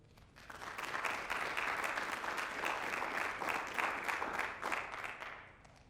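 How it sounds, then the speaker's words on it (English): A room full of people applauds at a school district address, steady dense clapping that builds quickly and holds for several seconds before tapering off, heard from a distance. "giving a round of applause to the Board of Education in Fargo Public Schools"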